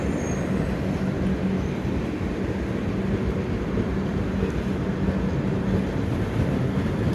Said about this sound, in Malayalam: എന്തായാലും ട്രെയിൻ പതുക്കെയാണ് പോകുന്നത് കേട്ടോ